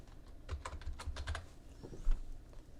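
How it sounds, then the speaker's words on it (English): Typing on a computer keyboard while entering a style name in Microsoft Publisher, a quick run of close, crisp key clicks in a short burst, no voices. "right up here we're just going to type body"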